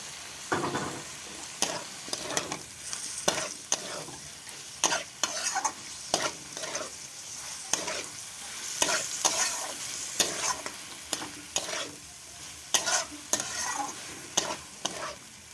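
Fried vegetables and fish pieces sizzling in a hot pan while a spatula scrapes and stirs, producing a steady close crackle broken by regular sharp scraping strokes throughout.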